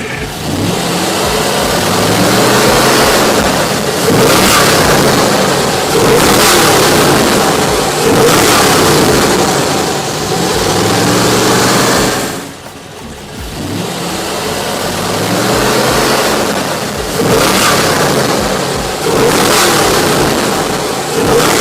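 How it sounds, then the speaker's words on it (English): A Corvette Stingray split-window sports car engine revs repeatedly, loud, throaty surges rising and falling in steady waves with a brief dip to idle midway, close by with no talking. "Jay, why don't you rev up the engine?"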